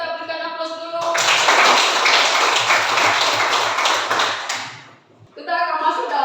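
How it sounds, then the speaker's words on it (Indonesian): A classroom audience claps together in a burst of dense, loud applause lasting several seconds, with a teacher's voice speaking before it and again after it fades. "Ya, kita berikan aplaus dulu."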